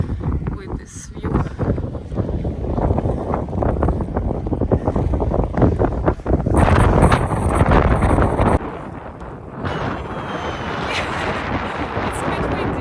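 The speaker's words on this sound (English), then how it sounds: "It's a bit windy, as you see." Strong wind buffeting the microphone in loud, gusty roars atop a crater rim in Iceland, with bursts that swell and ease; a voice speaks faintly beneath the rushing.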